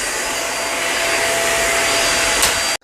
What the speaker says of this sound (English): So we're going to test and see how well this Hoover React Quicklift performs on this extremely dirty rug